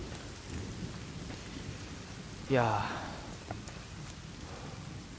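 Rain falling in the video game The Forest, a steady wash of rainfall with one brief swelling rumble of thunder partway through and a short spoken word at the start.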